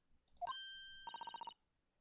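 A small bell in the video game The Great Ace Attorney Chronicles gives one bright ding, then rings in a quick rattling trill of about eight rapid strikes before stopping, clear and close.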